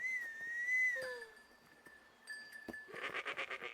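A handmade whistle blown to herd goats across a stream in an alpine pasture, a sustained clear tone with a falling slide, then a second steady note, followed by a short burst of goat bleating, fairly quiet and without talk.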